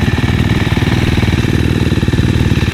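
A motocross motorcycle engine runs close and loud at a dirt track, a fast, steady, pulsing putter with no break.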